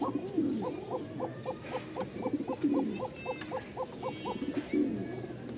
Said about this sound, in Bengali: এই যে ডাক শুরু করে দিছে,